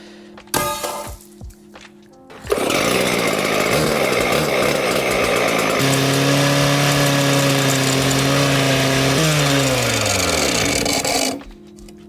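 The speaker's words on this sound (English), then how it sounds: "the only thing I have that'll cut it in less than an hour is a partner saw" A petrol partner saw is pulled over with a few sharp tugs, then roars to life and runs loudly and steadily for about nine seconds, revving and easing off before cutting out.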